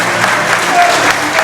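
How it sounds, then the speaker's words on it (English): A wrestling arena crowd gives a standing ovation, a dense, loud roar of clapping and cheering that stays even throughout, with a commentator's voice faintly under it. "And the crowd's giving a standing ovation."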